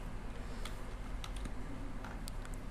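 Computer keyboard keys are typed in irregular clicks across the clip, close and clear over a steady low hum, with no voices.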